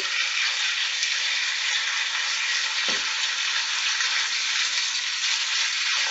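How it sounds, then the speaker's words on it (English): Pieces of lamb heart meat frying in hot oil, giving off a loud, steady, continuous sizzle close up, with one brief stir or clunk partway through. "now what we need to do is to put the meat into the oil and fry it"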